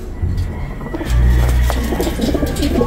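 Pigeons coo in a breeder loft that houses homers, low throaty rolling calls close by under a steady background hum, with a few faint scuffs.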